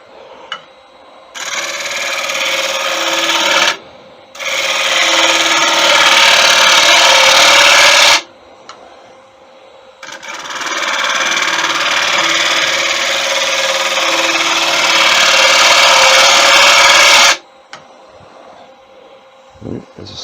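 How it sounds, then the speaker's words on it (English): A negative rake scraper rides across a spinning tiger wood platter on a lathe in three long, loud bursts of harsh scraping hiss separated by short pauses. "I'm going to use a negative rake scraper to take those tool marks away."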